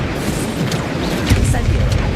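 Rapid fiery spell blasts in Hogwarts Legacy, a dense run of rumbling booms and crackling bursts stacked close together, loud and continuous under a player's shouted incantations.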